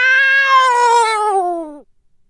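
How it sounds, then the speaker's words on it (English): A single long, loud meow close by, drawn out and falling in pitch before cutting off into silence. "A cat! There's a cat in the subway!"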